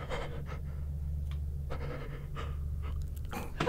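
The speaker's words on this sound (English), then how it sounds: "From the bed, I can hear you breathing." Heavy, rhythmic panting breaths from a person, close to the microphone, a series of short airy puffs over a low background hum, ending in a louder burst.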